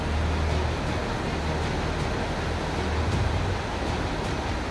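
Monsoon-swollen Alaknanda river surging at Rudraprayag, a dense, unbroken roar of churning floodwater heard up close, steady and loud from start to finish.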